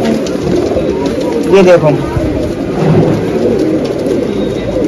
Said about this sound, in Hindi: ये देखिए देवबंदी कबूतर, बहुत बड़ा कबूतर है ये भी